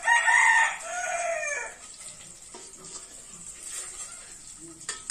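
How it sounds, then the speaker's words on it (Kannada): A rooster kept at home with native village chickens crows loudly and close by for about two seconds, then the yard settles into a quieter murmur with faint clucking. "ಇವ ಮನ್ಯಾಗ ಕೋಳಿ ಅವಲ್ರಿ"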